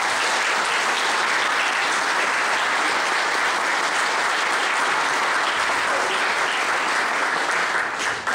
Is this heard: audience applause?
yes